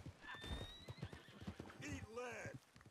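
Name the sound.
horse hooves and neighing in Red Dead Online video game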